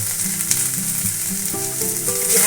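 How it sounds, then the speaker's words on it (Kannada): Drumstick leaves frying in hot oil for paratha, giving a steady close sizzle and crackle throughout with faint stirring, and no talk. "ಇದು ಹುರಿದೆ ಸ್ವಲ್ಪ ಫ್ರೈ ಮಾಡಿದೆ ನುಗ್ಗೆ ಸೊಪ್ಪನ್ನ"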